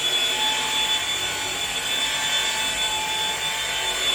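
A car paint polishing machine runs at its lowest speed setting, giving a steady, loud mechanical whir with a constant high whine, continuous and unchanging throughout.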